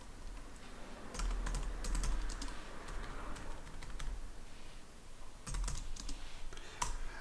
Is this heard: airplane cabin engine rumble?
no